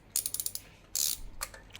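Socket ratchet loosening a spark plug on a 2012 Honda Accord Euro, quick bursts of rapid metallic clicking, close and clear, with a short pause between bursts.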